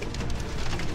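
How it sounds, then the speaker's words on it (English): Giant golf-ball-size hailstones pelting a truck in a storm, a dense, steady, loud drumming roar with no pauses. "The truck is being peppered with giant hailstones."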